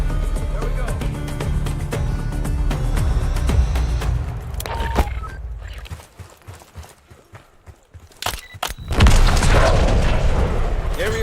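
A grenade explodes in the Call of Duty: Black Ops 6 campaign with a loud, sudden boom late in the sequence. It follows rumbling battle noise, scattered impacts and a quieter stretch, with voices in the mix.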